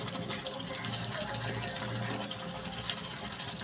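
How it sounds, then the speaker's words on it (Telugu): Water being poured into a pan of stuffed brinjal curry as it cooks, a continuous close gush of liquid with bubbling underneath for the whole stretch. "కొంచెం వాటర్ అయితే యాడ్ చేసేస్తాను"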